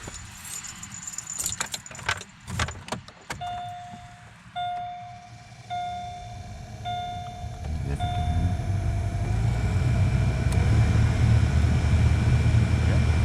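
A Chevy Malibu blower motor fan, freshly fitted with a new resistor, runs at full speed as a steady, rising whoosh of air, with keys jangling and rattling near the start.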